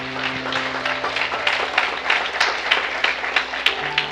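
A church congregation applauds during a Sunday morning service, rhythmic hand claps mixed with sustained organ or keyboard tones underneath, moderately loud and continuous.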